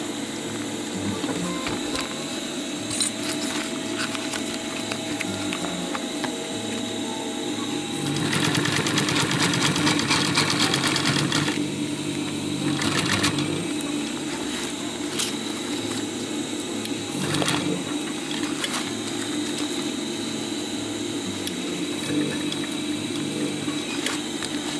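A sewing machine stitches a chest pouch in a steady mechanical whir, with a denser, faster burst of stitching in the middle and a lighter rattle at either end.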